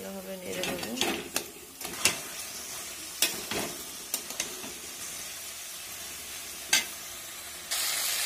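Turmeric powder being stirred through food frying in a pan, with scraping strokes and soft sizzling in a steady run, close and moderately loud, a few sharper knocks scattered through it.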